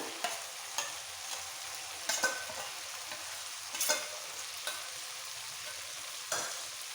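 Mutton and ground cumin and coriander paste fry in a pan for Golbari-style kosha mangsho, a soft steady sizzle broken by a few clear scrapes of a spoon stirring, close and without talk.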